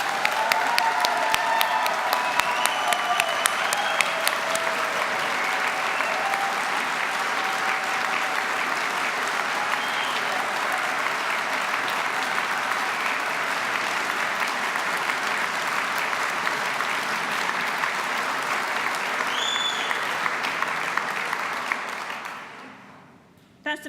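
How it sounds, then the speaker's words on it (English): Sustained applause from a large audience for graduates at a university degree ceremony in Gateshead, steady dense clapping lasting about twenty-two seconds before fading out at the end. "let's start today's ceremony by giving these amazing graduates a huge round of applause"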